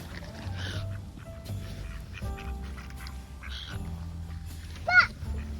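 Ducks being fed quack in short bursts at close range, with honking calls and one louder squawk near the end, while faint voices murmur in the background.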